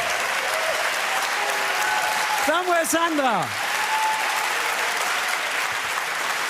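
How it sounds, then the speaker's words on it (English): An audience applauds inventors at a young inventors prize ceremony, sustained dense clapping throughout, with a short rising and falling tonal whoosh midway and a host calling out names over it. "It's a big applause for you"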